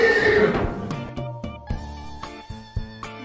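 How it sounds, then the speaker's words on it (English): A horse gives a loud, close neigh that trails off, followed by a few sharp hoof clip-clops and short snorts. "Horse make a neigh sound"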